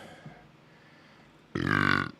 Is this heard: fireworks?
no